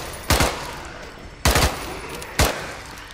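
Three separate bursts of MP5 submachine gun fire in the game Contagion, each a loud, sharp cluster of rapid shots roughly a second apart, ringing close and clear with no talk over them.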